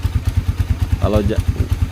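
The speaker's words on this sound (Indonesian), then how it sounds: "Baru motor boleh digeber-geber" A Suzuki Satria FU injection motorcycle engine idles with a steady, rapid thumping pulse and briefly rises in a short rev, close by, with a voice speaking over it.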